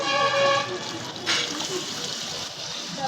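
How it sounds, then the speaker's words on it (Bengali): Rohu fish curry broth poured from one pot into a large kadai, a steady splashing gush of liquid with a voice briefly over the start, the flow holding fairly even with a short louder splash partway through. "মাছের ঝোলটা এই কড়াইয়ে ঢেলে দিলাম।"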